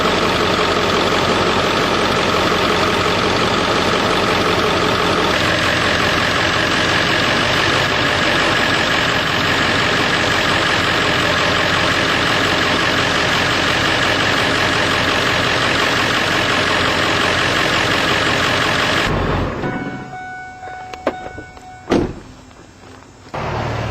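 A 2001 Ford F250 pickup truck engine idles with a steady, loud rumble that continues without a break, then drops away near the end, leaving a few light clicks and knocks.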